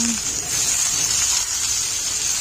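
Tomatoes, onions and garlic sizzle in hot oil with chillies, a steady close hiss of frying that holds evenly throughout with no voices.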